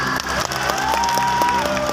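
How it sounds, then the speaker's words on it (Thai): Loud crowd applause and cheering at a celebration, brief and dense, with a tonal sliding sound running through it. "เสียงปรบมือดังๆให้กับพี่บัสทองวรพลวรพลคุณค่ะ"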